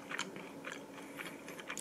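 Close, quiet bites and chews on a crunchy, chewy, sweet homemade cookie: a quick series of crisp crunches repeating in an uneven rhythm, with no talking.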